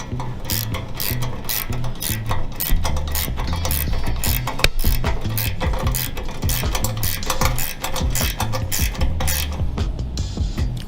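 A 10mm wrench tightening a jam nut on the throttle cable end of a homemade go-kart makes dense, rapid metallic clicking and ratcheting that runs steadily and close throughout, with a low rumbling hum underneath.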